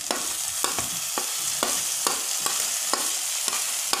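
Tomatoes go into a hot pan for paneer bhurji, sizzling steadily while a spoon scrapes and stirs in regular strokes, close up and with no talking.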